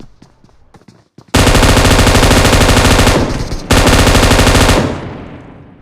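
Sustained automatic gunfire in the battle royale game PUBG: two long, loud, continuous bursts close up, the second following a brief pause, after some faint scattered shots.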